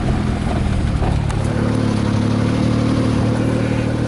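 A Suzuki vehicle driving on pavement has its engine droning steadily at a mid pitch, close and continuous, with no speech over it.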